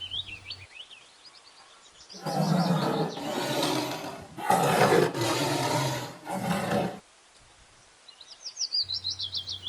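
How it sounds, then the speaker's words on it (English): A tiger's deep, rumbling roar in several loud bursts, with birds chirping faintly before and after. "T for Tiger."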